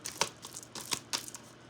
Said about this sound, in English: That was like the worst shuffling I've ever done in my life.